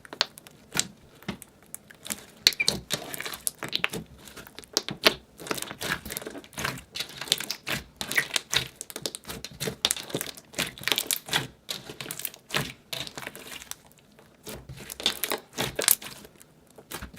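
Slime layers full of beads are being mixed together by hand, giving a dense, close patter of crackling, popping and squishing clicks that carries on irregularly throughout, with no talk.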